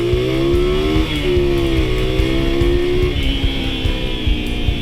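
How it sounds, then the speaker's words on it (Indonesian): A Honda Tiger Revo motorcycle accelerates hard in first gear, its engine note rising in pitch, dipping briefly, then climbing again, loud and close with no talking. "Misal saya oper 1, kita lihat ya akselerasinya ya."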